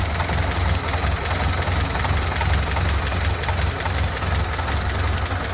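A 1931 Ford Model A sedan's stock engine idling steadily up close, with a loud, even low rumble and rhythmic knocking that continues without pause.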